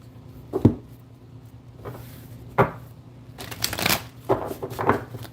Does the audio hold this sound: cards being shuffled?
yes